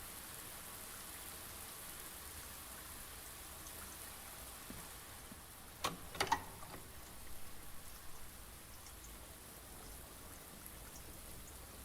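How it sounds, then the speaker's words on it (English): Sprinkler for watering plants, fed by a running water pump in the Blue Prince video game, gives a steady, faint rain-like hiss throughout, with a few brief clicks and splashes near the middle. "this is just like a thing for watering the plants."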